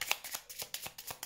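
Tarot cards shuffled by hand, a quick rhythmic series of about seven crisp riffling slaps in just over a second, close and clear with no voices.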